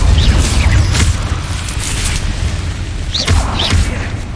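Incendio fire spell cast in Hogwarts Legacy, a loud rumbling whoosh of flame with deep booming low end and a couple of bright magical bursts over dense game noise.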